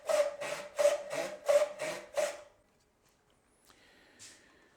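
A joinery saw cuts through wood to a marked line in six steady, evenly spaced strokes, close and crisp, then stops, leaving only faint shop noise and a small knock.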